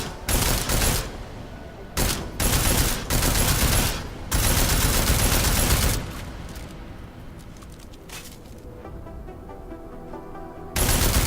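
Heavy automatic gunfire in Deus Ex: Mankind Divided, fired at an armored target, roars in long sustained bursts broken by brief pauses, then drops to a quieter background before a final loud burst.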